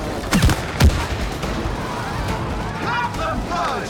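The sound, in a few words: gunfire shooting in video game It Takes Two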